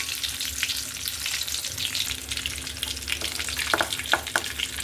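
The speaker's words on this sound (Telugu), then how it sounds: "కొంచెం పసుపు వేసుకొని కొంచెం లైట్గా వేపుకుంటే గుడ్లు నీకోసం రాదు" Eggs fry lightly in a pan with turmeric, a steady close sizzle with soft stirring scrapes and a few sharper spatter pops toward the end.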